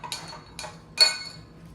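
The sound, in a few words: stirring black raspberry jam in a pot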